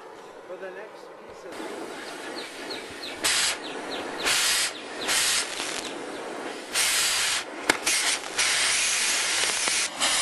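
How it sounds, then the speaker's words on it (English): Water sprayed onto cherry-red, red-hot zircaloy (zirconium alloy) metal sets off loud, sharp bursts of hissing steam, several surges of varying length over a steady background rush. "now I'm going to spray it with water as if it were getting some water in the bottom of the reactor"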